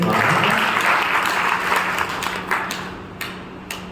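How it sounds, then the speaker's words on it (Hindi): An audience at a Brahma Kumaris talk on concentration claps for themselves, a full burst of applause that gradually thins and fades, with a few scattered late claps near the end. "अपने लिए तालियां बजाइए"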